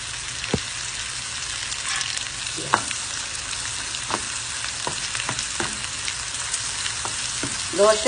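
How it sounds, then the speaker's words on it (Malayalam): Onions sautéing in a pan for Chettinad kara kuzhipaniyaram: a steady, soft sizzle with light scraping and stirring clicks, heard close and continuous with no talking. "നമുക്ക് സവോള ഒന്ന് വാട്ടിയെടുക്കണമെന്ന് മാത്രമേ ഉള്ളൂ"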